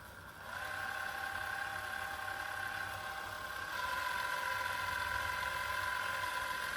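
A retrofit blind motor runs steadily with a continuous mechanical hum and whine, its pitch stepping up partway through as the speed changes; no voices.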